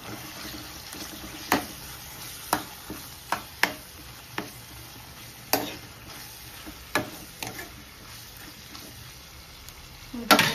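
Tomatoes and ginger garlic paste fry in a pan with a steady low sizzle, broken by a dozen or so sharp clicks and scrapes of a spoon stirring against the pan, ending in a louder clatter.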